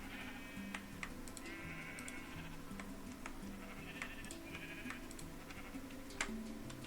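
Sheep in the Minecraft video game bleat repeatedly in short wavering calls over a steady background, with light clicking like keyboard taps scattered throughout.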